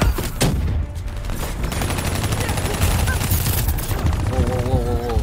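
Turret and weapon fire clatters in a Call of Duty: Black Ops 3 campaign battle. The dense bursts continue throughout, with speech and game effects mixed in.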